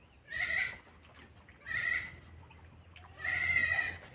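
Three separate goat bleats, each about half a second long, spaced evenly apart. They are fairly close, with a soft hum underneath.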